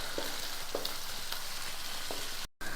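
Ginger-garlic paste fries in a pan with a continuous close sizzle, broken by a few light spatula scrapes and a brief dropout near the end.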